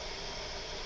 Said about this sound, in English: what you hear is our water heater